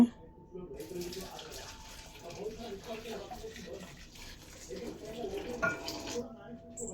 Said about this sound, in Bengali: শুটকিগুলো গরম জল দিয়ে ধুয়ে নিব